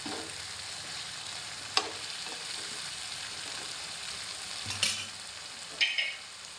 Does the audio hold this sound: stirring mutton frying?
yes